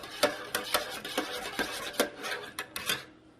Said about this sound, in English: I'm going to keep stirring it in case some of those chips in there didn't get melted down